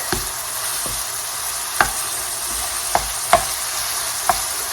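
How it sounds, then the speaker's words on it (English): Vegetables with a little onion and fresh garlic frying together in a pan: an even hiss of sizzling oil runs throughout, marked by regular sharp clicks and scrapes of stirring, nearby and without speech. "I'm going to drop my vegetables in here. Okay, and let them all cook together."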